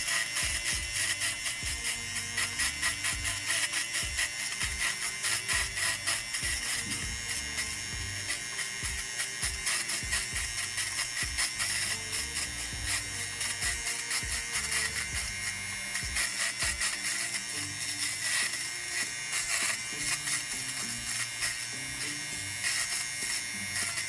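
Foam being sanded with a small electric rotary tool while carving a dyed foam piece, a steady high buzzing whine with constant tapping and shifting pressure, close and continuous.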